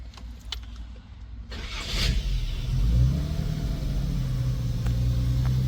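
Classic car engine with the choke pulled, cranking and catching, then revving and settling into a fast, rough high idle that rumbles loudly close by with no voices.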